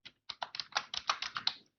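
Brisk typing on a computer keyboard, about a dozen quick, soft key clicks in an uneven rhythm, close and quiet, with no one talking.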